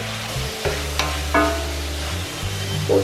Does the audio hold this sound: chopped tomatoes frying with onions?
yes